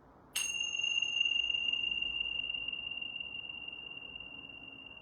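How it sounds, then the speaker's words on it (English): A single strike of tingsha bells rings out sharp and clear, then its bright metallic tone sustains and slowly decays over several seconds above a soft background hiss. "So I'm just going to cleanse with the tincture bells."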